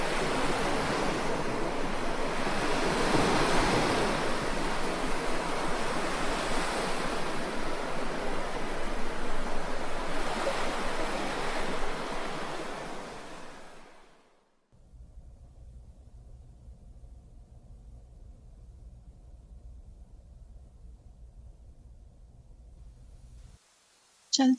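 Sea waves breaking on a seashore, a loud continuous surf wash with gentle swells that fades out after about fourteen seconds, leaving only a low, quiet hum.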